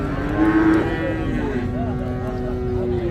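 A young cow at a cattle market in Hazratpur, Dhaka lets out a long, deep moo that carries on steadily, close and loud against a background of murmuring market noise.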